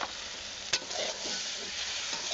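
Turmeric, chili and coriander powder fry and sizzle in a pan, a steady bright hiss with a sharp scrape of stirring early on, close and alone.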